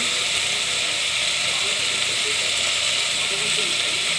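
Mutton sizzling in a pan while mutton gongura curry is cooked, a steady, even frying hiss that holds constant throughout without pause.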